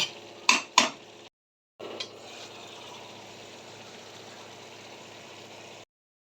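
Spices and chili powder being stirred in a cooking pan of fig (dumur) curry: two sharp metal clanks, a short silence, then a steady soft sizzle that runs until it cuts off.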